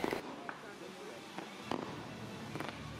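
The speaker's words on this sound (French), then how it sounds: "Et ça a fini par quelques feux d'artifice." Distant fireworks at Europa-Park's winter event pop and crackle in scattered bursts, several sharp bangs spaced a second or so apart over a quiet outdoor background.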